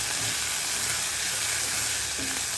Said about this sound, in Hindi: थोड़ा थोड़ा ही भूनेंगे प्याज के बस ट्रांसलूसेंट होने तक